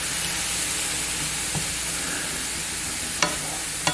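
Onions cooking in a splash of vegetable stock without oil in a pan, a soft continuous sizzle and hiss with a couple of sharp utensil clicks toward the end.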